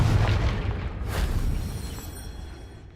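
Confringo spell blast in the Hogwarts Legacy game, a loud low boom that rolls and fades over a few seconds with a second softer burst in the middle.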